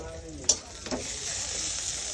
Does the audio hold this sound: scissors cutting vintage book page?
no